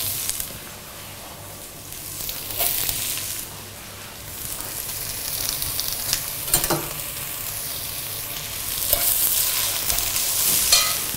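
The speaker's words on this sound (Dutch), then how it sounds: "Dan gaan we eerst de uitjes lekker bakken." Sliced onions fry in oil in a pan with a steady close sizzle, interrupted by occasional stirring scrapes and clatters, and no voices.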